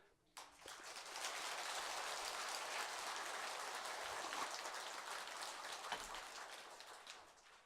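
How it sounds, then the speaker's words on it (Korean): An audience at a Buddhist dharma assembly in a temple hall claps at length, a dense, even patter of many hands, soft and somewhat distant, rising quickly and holding steady before tapering. "박수가 오후가 더 많네요."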